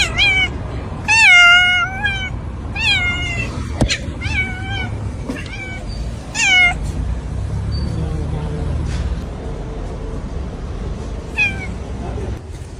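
A cat in Istanbul meows repeatedly in a series of rising, wavering cries, some drawn out and some short, fairly close over a low background rumble and faint voices.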